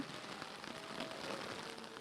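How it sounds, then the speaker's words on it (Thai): Heavy rain falls steadily as a dense, even hiss of drops hitting surfaces. It continues unbroken throughout and is heard alone, with no voices. "ดูดิฝนตกขนาดเนี้ย"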